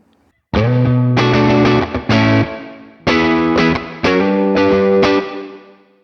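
Strummed electric guitar through the Morgan Amps Suite reverb, low-pass filter at halfway, producing a moderately bright tail; a few loud chord attacks follow a brief quiet start, each sustaining and fading without speech.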